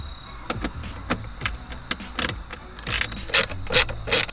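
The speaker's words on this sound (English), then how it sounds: "get your T20 out and take out these two bolts" A hand ratchet backs out T20 bolts from a BMW F10 seat panel, making quick, close, crisp clicking runs in a steady back-and-forth rhythm with no talking.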